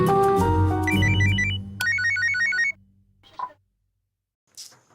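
A phone plays a melodic electronic tone of rapid beeping notes in two bursts that stop after about three seconds, followed by soft handling noises.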